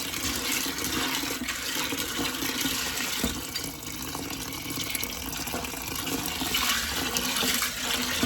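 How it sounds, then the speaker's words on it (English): Dry pinto beans being rinsed under a steadily running tap, water splashing continuously into a sink or bowl at close range, with no talking. "A lot of times I'll have to rinse them like this maybe 3 times, sometimes 4."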